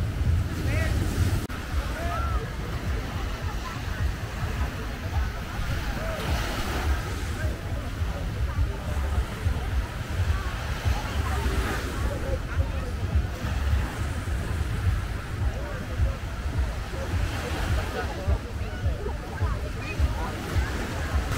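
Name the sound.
ocean waves at a beach in Boracay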